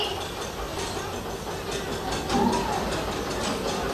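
A passenger train bound for Bhopal rolls along steadily, its wheels clacking and rumbling close by in a continuous loud wash with no talk.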